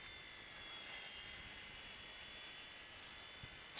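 A WLToys V911S RC toy helicopter flies outdoors, its small rotor and motor giving a steady, faint high-pitched whine and buzz throughout.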